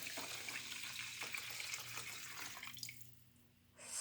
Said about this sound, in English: the only thing that I have left is to put the water in there